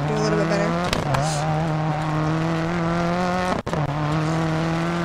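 A rally car's engine drones steadily at high revs in DiRT 4, shifting pitch as the car swings into a handbrake turn, with a brief gravelly skid and a sharp dropout partway through, and someone talking over it.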